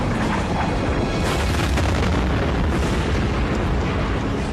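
A massive explosion from an asteroid striking a city, with force comparable to a multi-megaton nuclear blast, unfolds as a continuous, dense roaring rumble that stays loud and unbroken.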